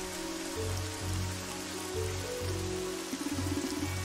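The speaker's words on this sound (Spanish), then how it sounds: "Uy, llueve." Rain falls steadily in the video game Evoland 2, a constant wash of drops spread evenly across the whole stretch, with low game music tones running underneath and no speech.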